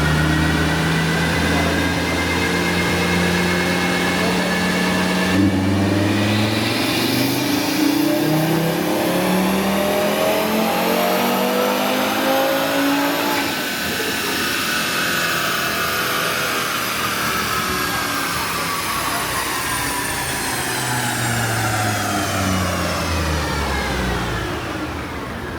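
A stock, unmodified drag car straight off the street runs on a dyno, its engine revving up through long sweeping pulls, easing off and climbing again, loud and close with steady mechanical roar throughout.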